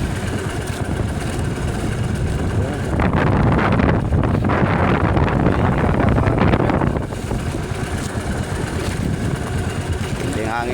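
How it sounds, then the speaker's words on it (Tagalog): Strong wind roars at sea around a fishing boat, a dense steady rush that swells louder in the middle, with an engine droning underneath. "mayagong yung hangin."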